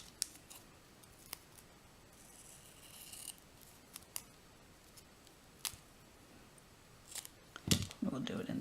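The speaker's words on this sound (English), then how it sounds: "I'm going to just trim this in half." Scissors cutting card paper in half, giving sparse, quiet snips and short crisp cuts spread across the stretch, with a denser burst of cutting near the end.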